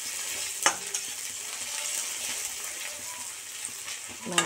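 Marinated ingredients frying in a pan with oil for mutton curry, a steady close sizzle with occasional scraping stirs and a couple of sharp clinks from the spatula.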